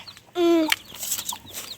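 A young chicken inside a coop lets out one loud, drawn-out squawk up close, followed by softer scattered chirps and clucks.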